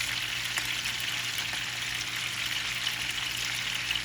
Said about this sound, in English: So now we're going to add our leeks.